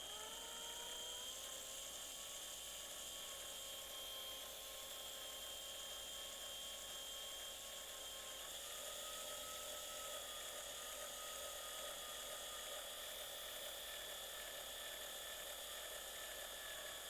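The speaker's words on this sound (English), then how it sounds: "So step one is going to be to drill this out." A small drill bores into a die-cast Hot Wheels Fast & Furious Mazda RX-7 toy car, a continuous high-pitched whine running steadily close to the mic with slight shifts in pitch and no talk.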